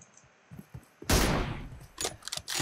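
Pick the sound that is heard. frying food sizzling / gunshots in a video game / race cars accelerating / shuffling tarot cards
gunshots in a video game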